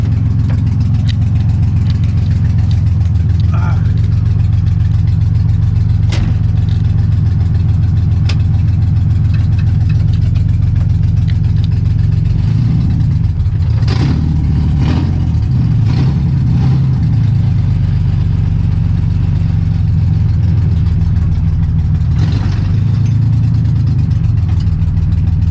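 A Nissan S13 engine runs steadily at a low idle rumble throughout, close and loud, with a few light rev blips and clunks midway as the car is pulled outside; no talking.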